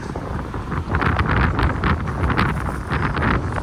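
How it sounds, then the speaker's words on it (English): A sudden gust of wind blows across a downtown street in Grande Prairie, Alberta, a loud, continuous rushing roar that buffets the microphone in uneven surges. "Where did this wind come from? It's like the weather just changed in a split second."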